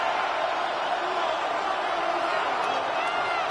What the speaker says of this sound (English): This crowd doing everything they can before third and goal.